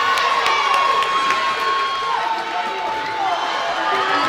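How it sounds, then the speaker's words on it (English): Roller derby spectators cheering and shouting steadily through a bout, a dense, loud crowd roar with whistles and excited cries, while an announcer talks over it. "The crowd is getting very feisty now."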